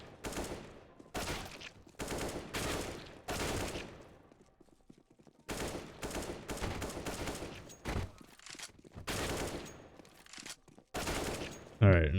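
Rapid bursts of gunfire from CS:GO during an aim warm-up, shooting at moving targets. The volleys come in repeated clusters separated by short quiet gaps.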